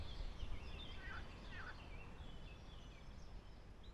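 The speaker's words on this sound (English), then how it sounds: "I think we've woken the ducks up in the reeds." Ducks in reeds beside a lake at Biscarrosse, west coast of France, give a few faint honking, gobble-like calls against steady outdoor wind and background noise.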